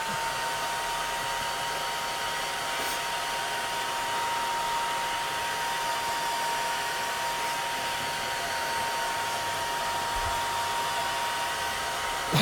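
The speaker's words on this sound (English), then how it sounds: "So I'm going to dry this with a hairdryer" A hair dryer runs steadily and close by, drying painted latte art on a coffee cup, a constant whooshing blower hum with a faint steady whine that holds unchanged throughout with no talking.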